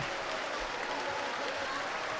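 Sustained hand clapping from a worship congregation at an annual Christian conference, a dense, even wash of applause with no pauses.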